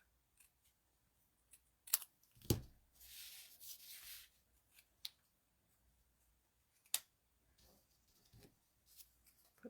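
Scissors snipping paper for a craft project: a few sharp, close clicks of the blades, with one longer rasping cut through the sheet, in an otherwise quiet room.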